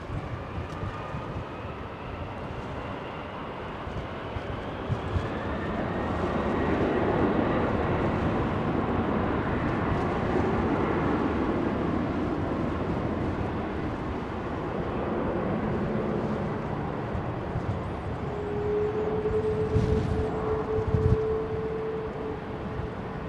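Airliner engines spooling up at London Heathrow, a broad rising roar that swells and ebbs across the stretch, with a steady tonal whine emerging late, distant and moderately loud.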